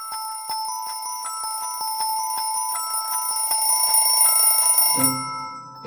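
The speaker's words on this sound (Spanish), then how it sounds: "¡Y este es un reloj despertador!" A cartoon alarm clock rings in a children's animation, a rapid run of metallic bell strikes that swells in loudness for about five seconds, then breaks off into a softer, lower tone.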